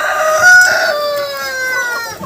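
Cochin chickens, adult birds, with a rooster crowing loudly and close in long drawn-out calls while hens cluck softly underneath, no talk.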